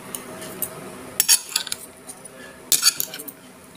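Utensils stir a vegetable salad in a bowl, with sharp metallic clinks and scrapes in irregular bursts, close and fairly quiet with no talk.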